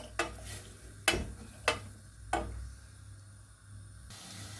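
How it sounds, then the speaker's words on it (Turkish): A utensil stirs butter, olive oil and onions in a pot with a soft sizzle and four sharp scraping clinks against the metal, close and without talk. "İyice karıştırıyorum"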